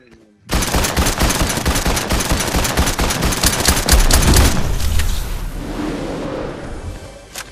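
Rapid automatic gunfire from Fortnite gameplay, a loud sustained burst of shots for several seconds that thins into scattered cracks and trailing echoes at the end.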